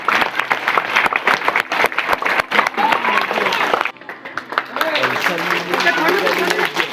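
Audience applause rises at a farewell gathering, with clapping running alongside a speaker's voice, pausing briefly, then carrying on under the talk.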